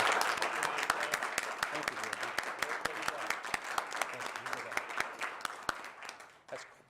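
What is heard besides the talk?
round of applause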